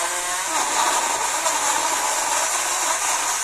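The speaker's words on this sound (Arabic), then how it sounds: "انا عندي خلاط صغنطوط كده" A small kitchen blender chops tomatoes with a steady, high-pitched whirring buzz, loud and close, holding an even tone throughout with no talk over it.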